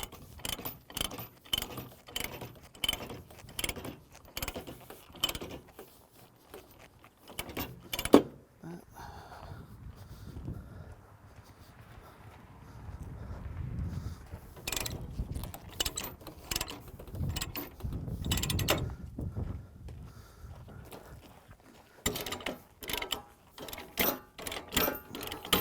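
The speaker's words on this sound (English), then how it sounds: "now once they're all snug, then we're going to tighten them down" Ratchet binders on chains securing a mini excavator to a trailer are cranked in quick, rhythmic metallic clicking bursts, loud and close, broken by a stretch of duller chain handling and low rumble outdoors.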